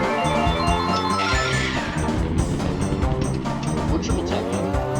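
Karts drifting in the Mario Kart 64 video game, with engine drones and tire squeals layered over chiptune-style game music, loud and continuous throughout.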